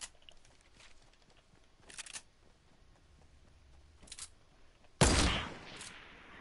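Gunfire in Fortnite, a few sparse muted shots early on followed by a sudden loud blast that decays over about a second, with no talking.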